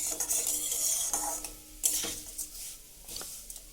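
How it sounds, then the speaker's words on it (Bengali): Sweet semai vermicelli is stirred steadily in a pan, with repeated metal scrapes and clinks against the pan over a faint sizzle, heard up close and alone. "তো দেখুন, আমি এটাকে একভাবে নাড়াচাড়া করছি। এইভাবে সমানই নাড়াচাড়া করতে হবে, তা না হলে পুড়ে যাবে।"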